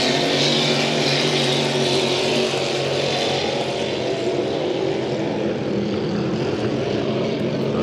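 H350 racing hydroplane boats at a Valleyfield race, engines roaring loudly and continuously in a dense, sustained blare as a boat accelerates, with no speech.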